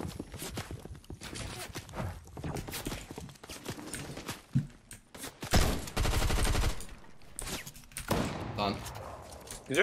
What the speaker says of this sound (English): Is there another one shooting?